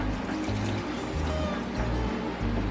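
Water pouring into a container while measuring cups for homemade apple cider vinegar, a continuous steady splashing stream at close range with a low rhythmic hum underneath.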